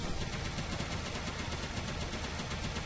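Dense burst of enemy gunfire in the Mighty No. 9 video game, a steady, loud rattle of rapid shots filling the whole clip with no talking.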